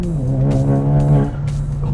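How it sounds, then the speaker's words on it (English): A tuned 250 HP VW 1.4 TSI pulls at full throttle in second gear, its engine giving a loud, steady, harmonic drone that holds strong for the whole moment, with no talk over it. "Let's give it full throttle in second gear."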